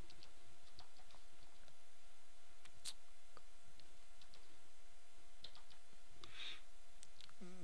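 Typing on a computer keyboard while writing a particle script in Maya, with light scattered keystrokes close by over a quiet room hum, including a brief flurry of faster clicks near the end.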